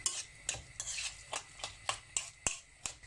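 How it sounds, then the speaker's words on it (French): Spoon stirring tomato paste and olives in a cooking pot, with about eight distinct scraping strokes in a steady rhythm, close and clear, and no talk. "on va mélanger tout ça"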